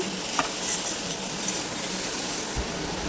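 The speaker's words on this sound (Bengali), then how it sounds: "এবার এর মধ্যে দিয়ে দেবো গ্রেট করে রাখা গাজর গাজরটাকেও ভেজে নেব" Grated carrot tossed into a pan of lightly fried onion gives a steady, soft sizzle, with a few faint clinks of stirring over the hiss and no voices.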